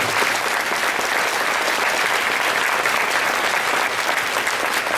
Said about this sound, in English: I think we all deserve the warmest round of applause at this point